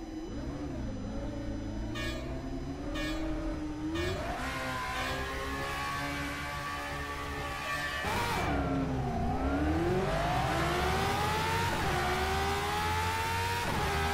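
A Brabham BT44B race car engine in a racing video game at Lakeside Raceway Park, loud and close, revving up and down through rising and falling sweeps as it shifts, with brief gear-change breaks.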